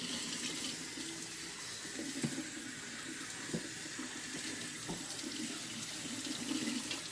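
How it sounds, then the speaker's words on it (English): Warm water runs steadily from a tap as hair is rinsed, a soft continuous splashing stream with occasional small splatters, fairly quiet and close, with no talking. "you rinse your hair with not too warm water"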